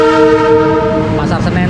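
A passenger train horn blares loud and close at a station platform, a sustained chord that fades as rumbling and rattling carriages roll in.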